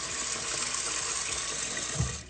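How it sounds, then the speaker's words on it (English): Water gushes steadily into a pot of washed rice, a continuous close pouring rush that swells briefly near the end. "So what you do is you pour the water"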